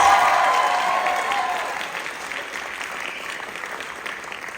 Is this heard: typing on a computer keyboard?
no